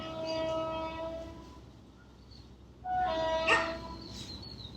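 A train approaching and passing, with a steady low rumble and a strong horn blast with sustained tonal bands, the noise swelling louder toward the end; no speech.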